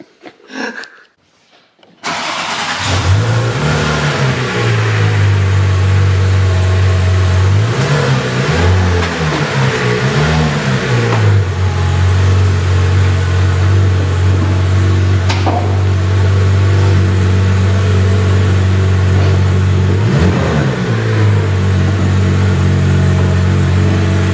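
Porsche 997 GT3 on new forged wheels driven off after starting, its engine droning loud and steady with several rising and falling revs, close by, no talk.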